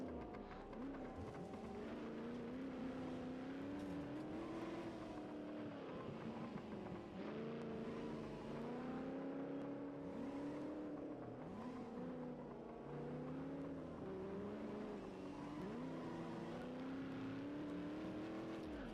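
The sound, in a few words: race car driving with loose wheels, from a video game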